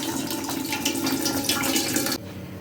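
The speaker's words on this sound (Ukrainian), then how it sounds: "Виливаю воду з бутильків каструлю" Water pours steadily from jars into a pot in a broad, splashing rush for about two seconds, then stops abruptly, leaving quieter room noise.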